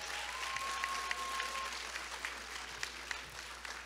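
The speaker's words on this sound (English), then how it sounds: "We clap it up for her one more time." Audience applause at the 2022 Mister and Miss Coppin State University coronation, a steady wash of clapping from a seated crowd that holds at an even level throughout, with a faint sustained tone partway through.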